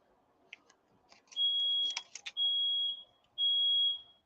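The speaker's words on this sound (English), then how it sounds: "He's using a torch back there, and he set off the alarm." Smoke alarm set off by a torch in use nearby, sounding three loud sustained piercing beeps after some faint clicks and clatter.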